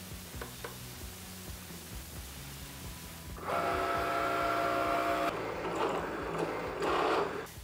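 Cutting plotter slicing heat transfer (iron-on) vinyl in mirror mode: a steady mechanical whir with a faint background hum, then a louder buzzing carriage motor and blade movement over the last four seconds, no talking.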